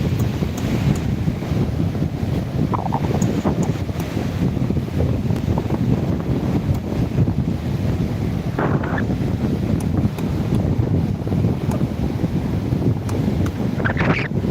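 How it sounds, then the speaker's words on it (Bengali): River waves wash steadily against the shore at high tide under strong, constant wind buffeting the microphone, making a continuous rough roar with no voices. "এই পর্যন্ত পানির ঢেউ চলে আসে"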